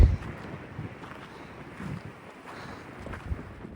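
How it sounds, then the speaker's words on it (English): Blustery wind buffets the microphone in uneven gusts while crossing a dam on the Continental Divide Trail near the Gila, New Mexico, a rough low rumble rising and falling with a strong burst at the start. "And it's so windy."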